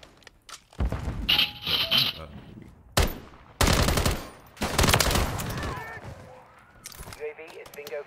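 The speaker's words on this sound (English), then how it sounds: "Yo, why am I getting shot?" Gunfire in Call of Duty: Modern Warfare 3, with loud bursts of automatic fire broken by short pauses, single sharp shots and clanking between them, and a voice speaking at times among the shooting.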